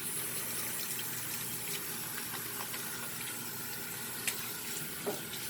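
Steady running water rinses the crown of a head during a shampoo, a continuous close faucet stream with small splashes and no talking.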